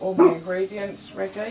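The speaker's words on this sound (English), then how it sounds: "Oh, excuse the dog barking." Dog barking indoors in a home kitchen while a yam stew is being prepared, a few short, near barks mixed with a person talking over them.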